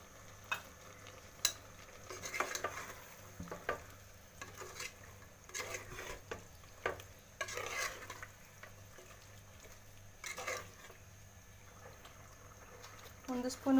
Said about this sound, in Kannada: ಈಗ ಇದಕ್ಕೆ 1 ಬೌಲ್ ಮೊಸರು ಹಾಕ್ಕೋತೀನಿ.